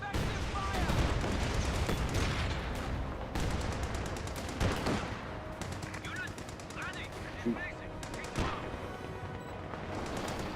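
Dense video game battle gunfire fills the whole stretch, with rapid machine-gun bursts and single shots layered over each other, loud and continuous, with distant explosions and faint voices in the mix.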